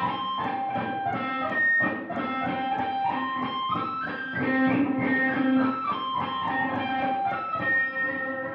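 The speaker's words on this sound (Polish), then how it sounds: "Jeśli będę przesuwał w różne miejsca tę kostkę i wydobywał w taki, a nie inny sposób ten dźwięk, to będzie wyglądało tak." Electric guitar played with a pick through distortion, a run of pinch harmonics as the pick moves to different positions along the string, each note shifting pitch in quick succession, loud and close with no voice.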